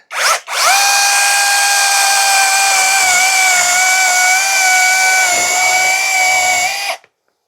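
A small battery chainsaw with a long bar whines at a steady high pitch as it cuts through wood, loud and close, starting abruptly and stopping after about seven seconds.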